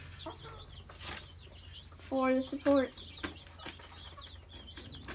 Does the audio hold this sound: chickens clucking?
yes